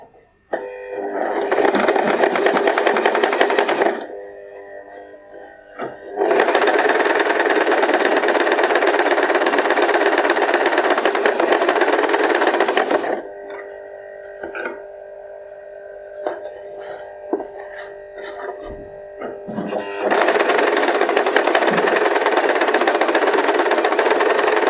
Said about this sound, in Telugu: ఇలా ఫాల్ని జరుపుకుంటూ ఇలాగా శారీని సెట్ చేసుకుంటూ నీట్గా ఇదే విధంగా స్టిచ్ చేసుకుంటూ రావాలి.